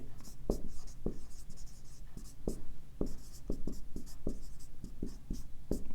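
A pen writing a note on paper, with quick scratchy strokes and soft taps in an uneven, steady rhythm, close and fairly quiet.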